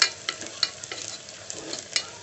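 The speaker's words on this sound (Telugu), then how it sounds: "హల్దీ పౌడర్ యాడ్ చేసుకుని ఇలా కలుపుకోండి" A spoon stirs turmeric powder into onions frying in a pan, producing irregular scraping strokes and light clinks over a soft, continuous sizzle, close and moderately loud.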